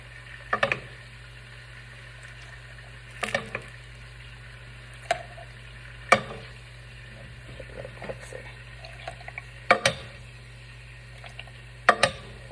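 Spoon scraping and clinking in a pan of fideo as juice is scooped out, a series of sharp metallic taps spaced a few seconds apart over a steady low hum.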